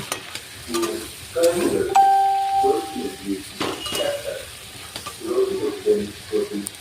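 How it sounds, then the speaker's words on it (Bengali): Ginger, cumin and chili paste sizzles and is stirred in a pan for a prawn dish, with intermittent frying hiss and scraping under voices that talk over most of it. "আদা বাটা, জিরে বাটা, লঙ্কা বাটা দিয়ে ভালো করে কষিয়ে নেব"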